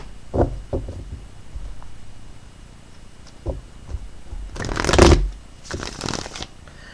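Tarot cards being shuffled, a few soft riffles and taps followed by two louder riffling bursts near the end, close and alone.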